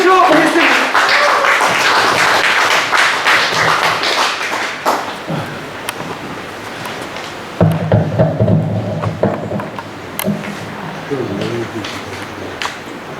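A hall audience applauds to welcome performers at a film production launch ceremony, loud and dense at first and then thinning out, giving way to talk and other sounds in the room.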